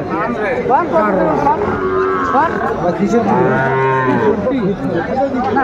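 Sahiwal cattle at a busy livestock market low repeatedly, with long, loud, overlapping moos over a constant murmur of crowd chatter.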